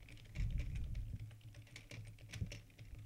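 Quick, steady keystrokes patter on a computer keyboard as a math word problem is typed out, close and fairly soft, with no voices.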